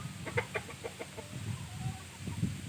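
Several short clucks and low chicken calls from a nearby ten-month-old Thai Pa Koi fighting rooster, irregularly spaced, with some brief higher chirps from other birds early on.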